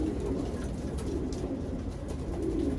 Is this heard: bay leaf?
no